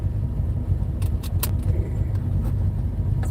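A Plymouth Barracuda out on a drive, its engine giving a steady, close low rumble throughout with a few light clicks and rattles on top.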